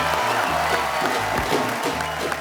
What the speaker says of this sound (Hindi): की पूरी टीम के लिए जोरदार तालियां